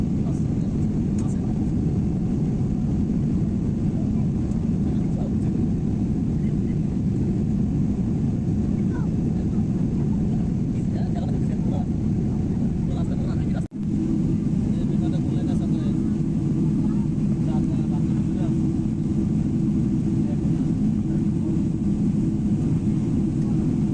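Steady, loud engine and air roar fills the cabin of an airliner in flight from Bangladesh to Saudi Arabia, droning continuously with one brief dip partway through.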